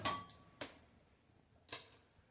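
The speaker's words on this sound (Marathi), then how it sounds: "आता मी गॅस चालू करते" A gas stove under a steel kadai is switched on, and the igniter gives three sharp, separate clicks close by with short pauses between them in a quiet kitchen.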